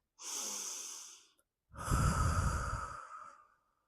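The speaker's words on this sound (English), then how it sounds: "the simple rhythm of breathing in and breathing out" One slow, audible breath in, then a longer, heavier breath out after a short pause, close and steady with no talking.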